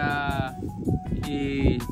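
Goats bleating at a goat farm, several close, wavering calls overlapping one another in quick succession against background farm noise.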